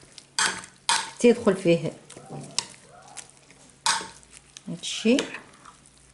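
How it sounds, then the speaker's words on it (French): Salad is stirred in a bowl with a utensil, giving irregular clinks and scraping knocks, close and fairly loud, while a person talks between the bursts. "Je mélange bien comme il faut."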